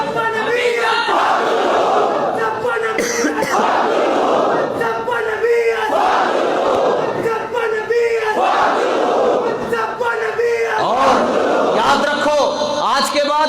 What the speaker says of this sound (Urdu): اس نعرے میں ڈبل زور ہونا چاہیے